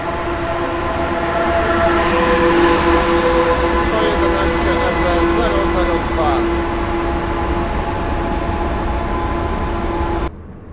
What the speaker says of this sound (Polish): Ładnie się zdążyła rozpędzić lokomotywa Pesa Gama